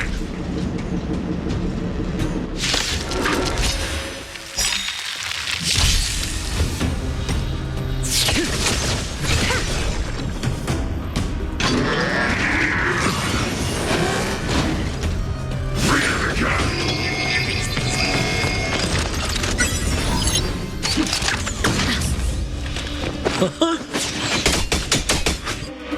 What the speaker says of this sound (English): prepare yourselves for my heavy laser cannon!